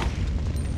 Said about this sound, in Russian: Какой меткий выстрел, Джилл.